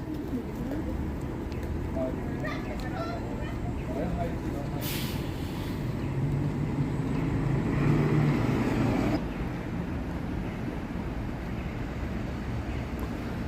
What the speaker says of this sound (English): We're just waiting for this bus right here to pull up to here and open it